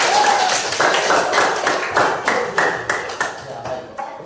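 Students in a classroom give a short burst of clapping lasting a few seconds, with sharp, uneven hand claps up close and some voices mixed in.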